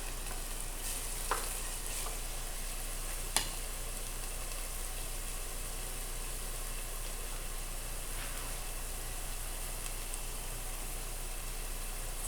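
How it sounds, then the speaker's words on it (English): Onion and garlic, peeled and quartered, softening in a pan as they are stirred, giving a steady low sizzle with a couple of sharp utensil clicks, alone without talk. "stir the onion and garlic around and let that soften up."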